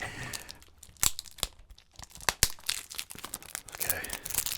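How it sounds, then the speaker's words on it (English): Cellophane wrapping is torn and crinkled off a Blu-ray case, giving sharp rips and crackles in uneven bursts up close, with no speech. "It's still wrapped in cellophane."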